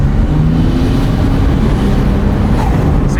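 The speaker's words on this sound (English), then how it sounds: "See, it's like cutting. Is it boost cutting?" A Toyota JZX100's engine roars loudly and close, its low rumble stuttering and chopping in uneven bursts as it hits boost cut and the power cuts in and out.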